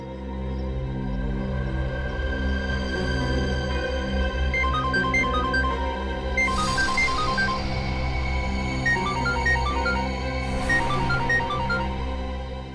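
Melodic mobile phone ringtone plays loudly and continuously for about thirteen seconds, its repeating tune carried over a dense background music bed, with no talking.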